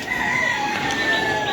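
Native country chickens cluck and call together on a small home farm, a dense, continuous chatter of overlapping bird voices filling the space nearby.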